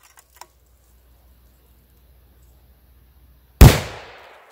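A single loud, sharp rifle shot from a 6.5x284 Norma loaded with Nosler 129gr Accubond bullets cracks out of near silence at a shooting range, followed by a short fading echo.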